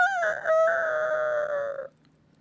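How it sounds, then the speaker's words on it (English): A rooster crows once, loud and close, a bright rising-then-falling cock-a-doodle-doo lasting under two seconds before cutting off to quiet. "That's what the rooster says when I'm milking him."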